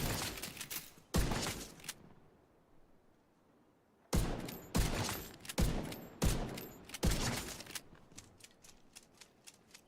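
Gunfire in The Division 2, heard as several sharp bursts from a video game shooter, close and loud, with silent gaps between them.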